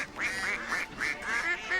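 Repeated nasal duck quacks in a quick series, a cartoonish sound effect in a radio advertisement, loud and close with no talk over it.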